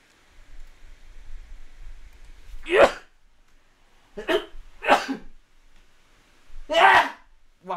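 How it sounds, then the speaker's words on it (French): A few loud, close sneezes from an adult, with a sharp explosive burst followed by brief noisy bursts and a final strong sneeze, in a quiet room. "j'ai éternué comme un vieux"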